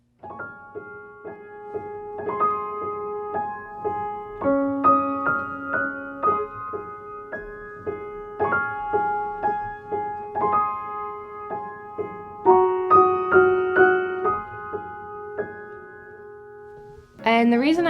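Solo piano plays a gentle melody over a repeating left-hand ostinato, chords shifting every couple of seconds, with no voices.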